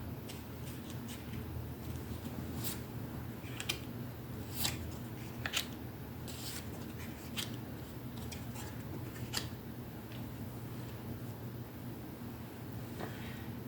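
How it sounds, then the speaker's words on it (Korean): Tarot cards are shuffled and drawn in a quiet room: soft papery rustling with a string of crisp, separate snaps and flicks as cards are slid and pulled, all fairly faint and without talk. "카드를 뽑아보도록 하겠습니다"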